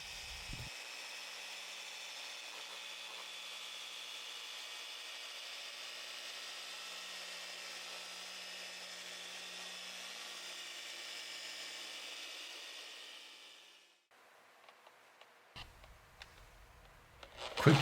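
An orbital polisher fitted with a microfiber towel buffs residue off the painted panel of a 54-year-old Cessna 206, a steady whirring hum running for about fourteen seconds before it stops, followed by brief handling clatter.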